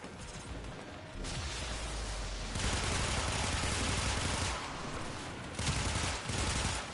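Sustained automatic gunfire from the game Warframe, a dense, loud, continuous rattle broken into a few long bursts with brief pauses between them.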